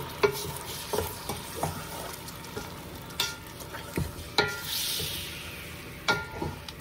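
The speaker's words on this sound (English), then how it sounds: "we're just gonna fry this until it's not pink anymore" Meat frying in a pan over a low flame while a spatula moves it around, giving a steady soft sizzle broken by regular scraping and stirring clatters, close and moderately loud, with no talking.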